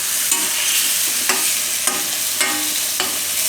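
A stuffed ridge gourd curry is stirred in a pan over a low flame, with a steady soft sizzle and spoon scrapes coming every half second or so, close and alone with no talk.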